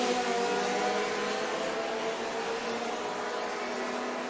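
Historic race cars in the Heacock Classic Gold Cup Group 2 feature race at VIR accelerate away in a loud, sustained engine roar that holds steady and unbroken for a few seconds, with no voices over it.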